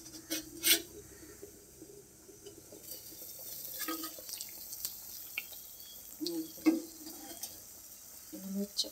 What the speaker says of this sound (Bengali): আলু সিদ্ধ হচ্ছে।